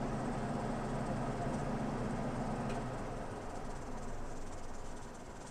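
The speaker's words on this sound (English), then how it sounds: "the pressure cooker has come up to pressure, and it's good to let it kind of rattle off" A pressure cooker on the stove, heated with grain for mushroom grain spawn, hisses steadily at full pressure with a faint rattle from its weight on top, a continuous close and fairly quiet rushing sound with no talk.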